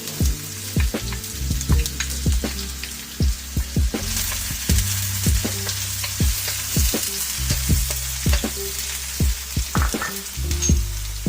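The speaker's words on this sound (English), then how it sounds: "garlic, onion, and tomato in a little olive oil using our electric wok" Garlic, onion and tomato sauté in a little olive oil in an electric wok: a continuous close sizzle punctuated by frequent knocking and scraping stirs of the utensil against the pan.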